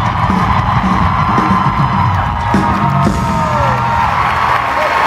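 A large concert crowd at the Shrine Expo Hall roars with sustained cheering, yells and whoops, loud and dense throughout, with scattered claps mixed into the steady wall of voices.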